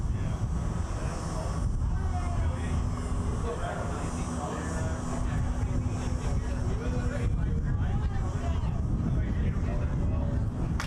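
An Airbus A380 departing runway 23 at Toronto Pearson, giving a broad continuous jet roar that holds steady across the whole stretch, with people talking nearby.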